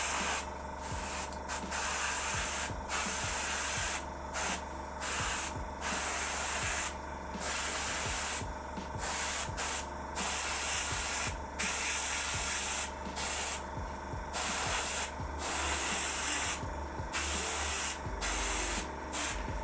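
Airbrush with a 0.2 needle spraying paint onto an Imperial Knight miniature, a steady close hiss broken by frequent short pauses in the flow.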